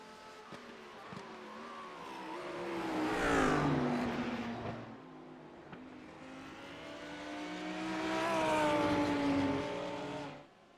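Racing engines of a BMW and a Lamborghini at Le Mans in an endurance racing video game, swelling twice as the cars pass close with rising and falling whine and roaring revs, then fading between passes.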